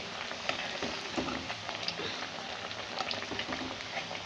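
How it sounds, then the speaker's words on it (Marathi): Green pea cutlets fry in oil in a kadhai, with one side browned and ready to be flipped, giving a steady, dense sizzle and crackle close by with no voices. "पूर्ण खालची एक साईड तळून झालेली आहे आता आपण याला पलटी करून घेणार आहे"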